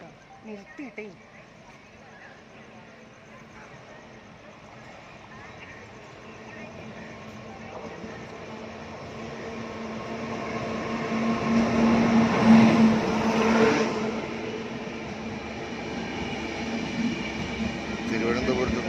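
A passenger train bound for Chennai rumbles closer over about twenty seconds, swelling to a loud peak near the middle, with a steady tonal whistle and faint voices nearby.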